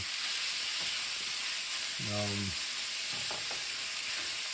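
Lamb burrito filling sizzles in a pan on medium heat, a constant bright hiss heard close by, with a short tonal scrape or voice-like sound in the middle.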